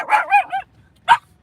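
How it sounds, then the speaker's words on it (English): A pet dog named Butters barks close by: three quick barks in a row, a short pause, then one more loud bark, with near silence between. "Dude, my dog's going ape shit."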